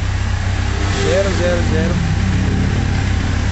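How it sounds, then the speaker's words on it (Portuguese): A 2011 Kawasaki Z750 motorcycle idling at a dealership, its engine giving a steady, smooth low rumble throughout while someone speaks over it. "Funcionamento da moto é redondinho"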